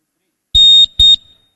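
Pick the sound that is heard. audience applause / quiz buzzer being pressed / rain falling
quiz buzzer being pressed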